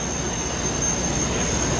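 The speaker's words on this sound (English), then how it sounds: "Yeah, I can hear the jet engine right now." Steady loud roar of the jet engine on the Porta Jet, a jet-powered porta potty at an air force base open house and airshow, with a constant high whine over broad rumbling noise.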